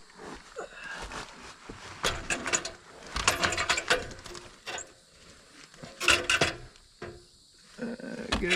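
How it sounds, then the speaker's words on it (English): Ratcheting clicks and metallic wrenching come in irregular bursts with quiet gaps as tools work at the muffler of a Toyota MR2 Spyder, close and moderately loud. "let's get that muffler cut off and see what we can do"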